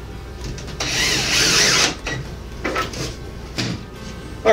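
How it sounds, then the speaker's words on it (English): A power drill with a special flat-edged bit whirs in a loud burst, then several shorter bursts, while screws are worked out of drywall panels during a fish room build; no one speaks. "So I got a special little bit for my drill here."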